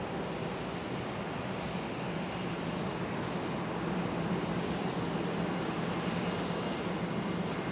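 An Airbus A321 airliner taxis at Raleigh-Durham airport, its jet engines giving a steady, broad roar that holds close and loud, swelling slightly toward the end, with no voices.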